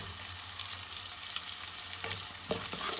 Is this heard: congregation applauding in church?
no